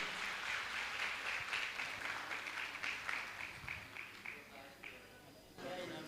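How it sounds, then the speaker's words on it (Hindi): An audience at a Jain monk's question-and-answer discourse applauds a girl, with brisk, continuous clapping that gradually thins out while people talk over it. "जोरदार एक बार ताली तो हो जाए इस बिटिया के लिए।"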